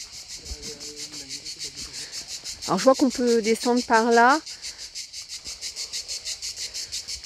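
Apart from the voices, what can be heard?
cicadas singing at the Maupas calanques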